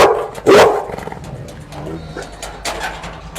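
A dog gives one loud, sharp bark near the start, followed by quieter scuffling and softer noises with a voice faintly in the background.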